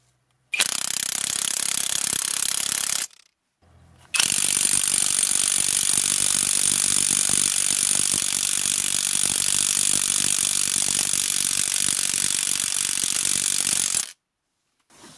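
An Onevan brushless 20V cordless impact wrench rated at 1800 Nm fires in two loud, close bursts: a short hammering rattle, a brief pause, then a long sustained run of rapid impacts before it stops abruptly.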